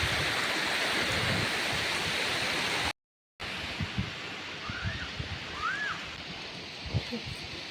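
River water flows over rocks in a quiet village setting, a steady close rushing wash, briefly cut to silence, then resuming with faint bird chirps above it.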